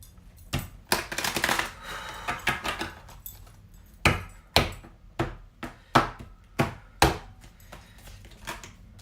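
A tarot card deck being shuffled and split, a flurry of riffling card noise followed by a string of sharp, separate taps and slaps as the cards are set down, close and without talk.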